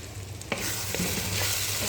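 Spices frying in a pan while being stirred and mixed, a steady close sizzle that swells after a scrape of the spoon, with a few soft clinks and no talking.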